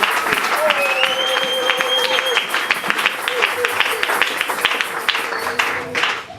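A church congregation applauds during a French-language worship service, sustained clapping mixed with crowd voices and a tonal background, fairly loud and close throughout.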